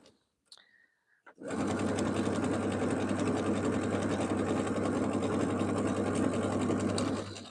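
A sewing machine stitching a quilt runs in one continuous, loud, close whir for several seconds after a few brief clicks and a pause.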